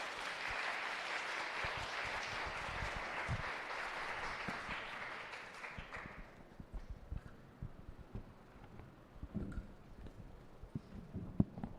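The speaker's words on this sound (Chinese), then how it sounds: "我们一起拍手来欢迎这5位年轻人一起到台上来" A church congregation at a youth ministry Sunday service applauds to welcome five young people to the stage; thick applause fills the first half, then thins and fades into scattered knocks and shuffling.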